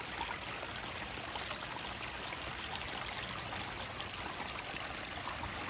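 A garden creek waterfall flows steadily, a continuous soft splashing rush heard alone at low level throughout.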